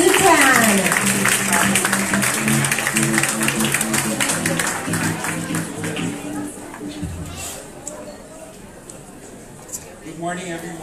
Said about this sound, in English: Let's all take our seats so we can witness this wonderful welcome. A round of applause, please